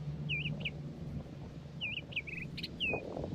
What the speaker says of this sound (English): Listen to that songbird.